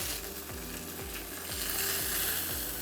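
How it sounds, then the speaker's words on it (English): Thin chicken pieces sizzle skin side down in a hot pan, a steady loud frying hiss with small crackles and faint periodic clicks throughout. "Fry this side for 2 minutes"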